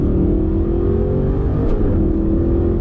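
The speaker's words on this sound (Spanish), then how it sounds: "es el sonido de su motor V8. Estamos ante un V8 que no tiene ningún tipo de sobrealimentación, un motor V8 atmosférico" Naturally aspirated V8 of an Aston Martin Vantage N430 revving, a loud, dense, continuous engine roar held steady and close, with slight pitch shifts.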